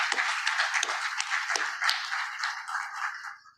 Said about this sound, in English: she also, in absentia, still deserves a round of applause